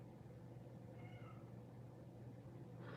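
From downstairs, a cat lets out a single short, plaintive meow over constant low room hum, followed by a brief burst of noise near the end.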